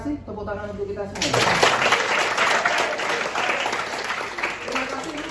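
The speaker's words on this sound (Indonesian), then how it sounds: "tepuk tangan untuk kita semua" Applause from a school class in a church-hierarchy lesson breaks out after the national anthem and fills the room steadily for several seconds, mixed with a few voices and faint singing at the start.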